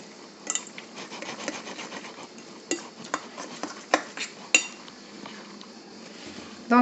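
A utensil scrapes and taps against a bowl while quiche filling with cheese is stirred together, close and fairly quiet, with irregular clinks over a soft rubbing texture and no talking.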